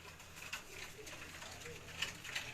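Champion racing pigeons on a Gujranwala rooftop loft coo softly, a few low, rolling calls at moderate distance, faint and intermittent against quiet background noise.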